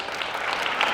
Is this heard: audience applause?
yes